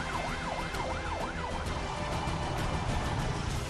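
A wailing ambulance siren outside a hospital in Lebanon after pager explosions sweeps up and down, fairly faint and partly buried in busy street noise and traffic rumble.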